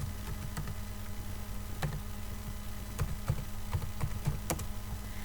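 Quick, light clicking of a computer keyboard as a new password is typed, an irregular run of soft keystrokes over a steady background hum, close but quiet.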